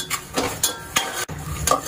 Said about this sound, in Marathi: आता मी जिरं पण भाजून घेणार आहे.